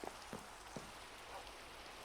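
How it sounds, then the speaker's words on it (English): Minecraft rain in a survival world falls as a soft, steady hiss with a few faint drop-like ticks, quiet and even throughout, with no voices. "It's raining. This is not great."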